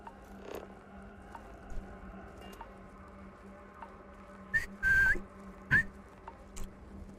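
Someone whistles a few short, rising notes into a gated microphone, the bursts cutting in and out amid quiet mechanical clicks and a low hum.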